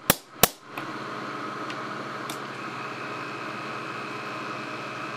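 A high-pressure air cannon at about 400 PSI, triggered electronically through a 24 V solenoid valve, fires two sharp, loud blasts in quick succession, followed by a steady hiss of air or background machinery.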